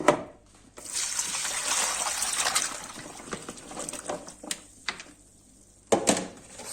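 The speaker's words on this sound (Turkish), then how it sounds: "soğuk suyun içine katıyorum. Ve bunu süzüyorum." Cut potatoes soaked in cold water are drained through a strainer, with a rushing pour of water followed by trickles, drips and a few clinks, close and moderately quiet.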